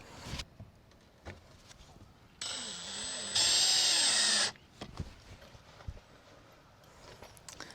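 A power drill driving screws through wildfire defense mesh into a soffit vent whirs in a short burst that climbs to a higher, steady whine, with light knocks and handling clatter before and after.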